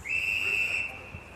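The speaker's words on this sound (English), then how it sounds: "Umpire's whistle's gone." An umpire's whistle at an under-16 women's Australian football match blows one sustained, shrill blast of about a second over faint crowd and field ambience.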